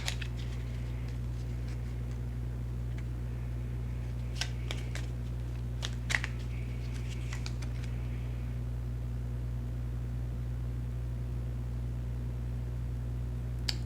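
Tarot cards are shuffled by hand in a few brief clusters of crisp, papery snaps and riffles, clearest in the first half, over a steady low electrical hum with no talking.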